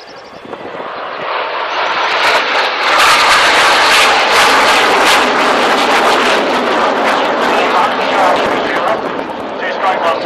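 A Hawker Hunter jet roars through an air show display, a loud, broad rushing engine noise that swells and holds steady for several seconds as it passes, with a commentator's voice partly buried beneath it.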